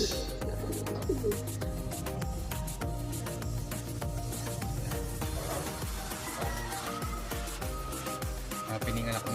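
Tippler pigeons coo repeatedly in a busy loft, the low, soft rolling calls overlapping continuously from several birds close by, with some rustling, scattered sharper sounds, and faint speech underneath.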